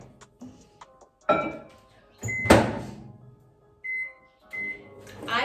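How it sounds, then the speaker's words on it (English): A microwave oven heating a mug cake, heard as a series of separate clicks, a door-like thump, a short beep and a few brief tones with quiet gaps between them, close by, with no talking. "we're gonna put it in the microwave so it can get all warm and gooey and cakey"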